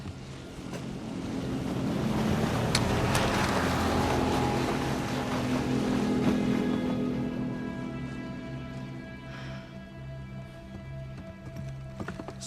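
Motorboat engine in the video game Uncharted 4, a steady droning hum mixed with waves and wind that swells loud and then slowly fades into the distance.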